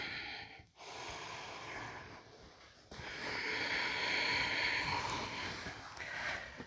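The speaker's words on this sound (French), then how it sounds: "Et encore une respiration à votre rythme" Slow, deep breathing during a yoga practice, a long soft inhale and exhale close to the mic with airy, breathy texture and no talking.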